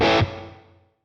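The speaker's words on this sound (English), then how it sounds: "let's turn the reverb on" A single loud electric guitar chord struck and cut off through a Boss Katana amp, its sound left hanging in the amp's reverb tail that fades away over most of a second.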